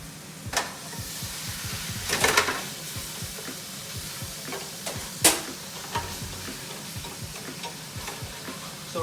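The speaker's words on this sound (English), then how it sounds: "We're just gonna drop the meat in right there. Now with that, I'm gonna give it a little stir" Meat dropped into a hot pan in a home kitchen gives a steady, close sizzle, while occasional sharper scrapes and clacks from stirring cut through. No one speaks.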